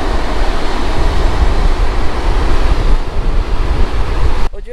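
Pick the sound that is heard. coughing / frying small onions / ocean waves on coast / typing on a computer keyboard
ocean waves on coast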